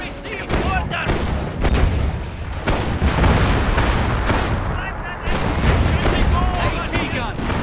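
Artillery barrage in Company of Heroes during the battle for Authie near Caen, with dense overlapping booms and rumbling shell blasts filling the whole stretch, alongside shouted voices.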